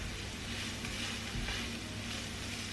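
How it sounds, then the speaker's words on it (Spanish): Chopped onion and garlic sautéing in a pan for a shrimp risotto, giving a steady, even sizzle that holds at a constant level throughout with no one talking. "añadimos la cebolla picada, mezclamos y dejamos que se sofría durante unos minutitos"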